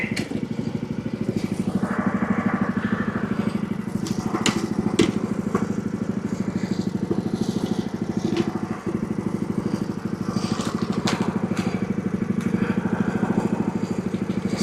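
A lawn mower engine idles steadily and loudly up close, its even chugging drone running unbroken throughout with no talking over it.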